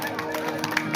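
An audience at a devotional music gathering claps in a short burst of applause for a ₹101 donation, quick overlapping claps mixed with crowd noise and a voice.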